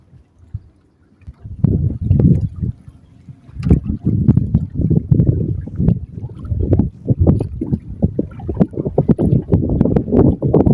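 Strong wind buffets the microphone over murky water from a small boat, coming in loud irregular gusts and thumps after a quiet start.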